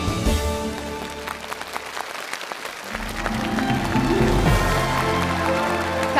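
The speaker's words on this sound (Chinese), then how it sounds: "掌声有请故事主人公登场" An audience at a televised stage show claps in sustained applause, swelling from a steady patter to a fuller, denser ovation with music playing underneath.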